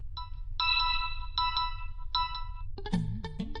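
A mobile phone ringtone plays a repeating bright electronic melody in several short phrases, with a rising run of tones at the end, fairly clear against a low background hum and no talk.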